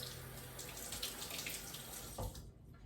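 A kitchen faucet runs steadily to rinse something off while a sweet potato soufflé is being made, giving a close, even hiss of water that cuts off near the end with a small clunk.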